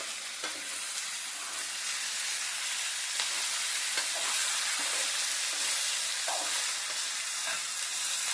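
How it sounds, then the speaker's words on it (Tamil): Onions with a handful of curry leaves and coriander sizzle steadily in a pan for a tomato-free onion chutney, with a continuous close frying hiss and occasional stirring scrapes, no voices. "இப்போ இது எல்லாத்தையும் நல்லா வதக்கிடலாம்"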